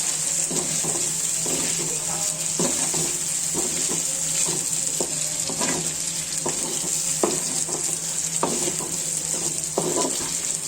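Taki fish frying in a silver pot, a loud continuous sizzle with a bright hiss, broken by repeated scraping and stirring strokes of a utensil against the metal pot.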